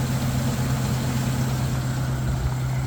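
A 1947 Chrysler New Yorker engine idles steadily up close, a loud, even low rumble with a constant hum throughout and no voices.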